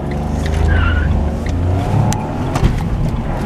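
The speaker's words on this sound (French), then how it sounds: "Je fais un petit démarrage." A 2018 Renault Clio 4 with a 900cc petrol engine pulling away from a stop, the engine droning loud and close as it gathers speed, with a brief tyre chirp.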